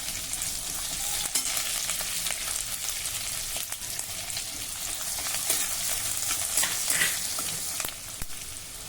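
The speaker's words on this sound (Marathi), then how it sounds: "जिरं मोहरी मेथी दाणे नीट तळतळले की एक छोट्या आकाराचा कांदा घालूया" A small onion fries in a tempering of cumin, mustard and fenugreek seeds, a dense, bright crackling sizzle running throughout with occasional faint stirring clicks, close and with no one talking.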